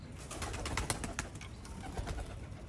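Sialkoti breeder pigeons on a rooftop coo quietly in a soft, continuous background murmur, faint and without voices.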